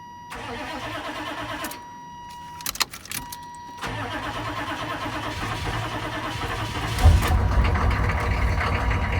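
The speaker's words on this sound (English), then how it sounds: "and start the truck" A 1992-1994 GM pickup truck's 6.5L diesel engine cranks briefly, stops, then catches and settles into a steady, loud diesel idle that builds slightly near the end.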